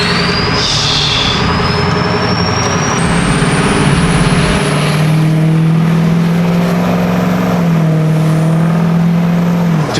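A 6.0L Powerstroke diesel truck engine revs at quarter throttle, a loud, close, continuous rumble with a rising whine and a sustained droning tone through the middle before it eases off.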